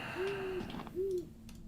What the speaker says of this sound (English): A large owl seems to be watching you